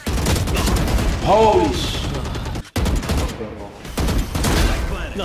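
Dense gunfire in Valorant rattles in continuous loud bursts, layered with game effects and a brief pause, while a voice speaks briefly over it.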